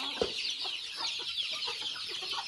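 Hen clucking softly near a chick on a small rural farm, repeated short clucks in an irregular rhythm over steady high-pitched peeping and a faint outdoor bed.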